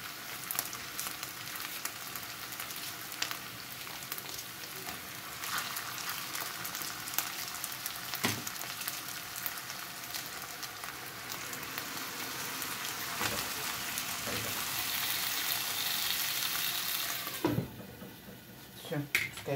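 Mushrooms and vegetables fry in a pan with a steady, soft sizzle and crackle that swells slightly toward the end, heard close but faint with occasional clicks.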